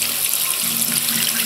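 Tap water runs steadily into a sink while hands are washed and lathered with a Dove Beauty Cream Bar soap, a continuous close splashing hiss with no talking.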